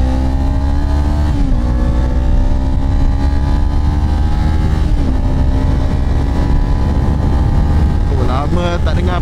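Loud Kawasaki Ninja 250 ABS parallel-twin motorcycle engine running close on a ride to Genting Highlands, with a steady throbbing note that rises and shifts through gears, revving briefly near the end.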